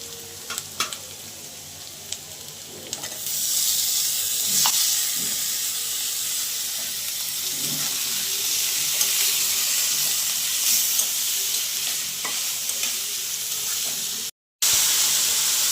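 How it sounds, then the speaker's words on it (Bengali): Green chilies and vegetables tossed into a frying pan of softened onions for an eggplant and small-fish chorchori, a loud steady sizzle that swells after a few seconds, with light clinks of a stirring spoon and a brief cut near the end. "এখন কাঁচামরিচ দিয়ে দেব আর সবজিগুলো দিয়ে দেব"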